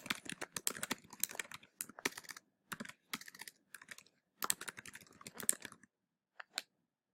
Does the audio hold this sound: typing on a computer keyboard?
yes